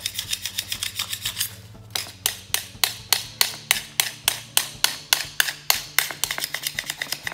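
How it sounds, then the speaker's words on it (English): Sharp, rapid chipping strikes gouge primed epoxy off polished tile, about twenty crisp impacts in a fairly even rhythm over a low steady hum, close and loud. "So we take a, try to chip this stuff off."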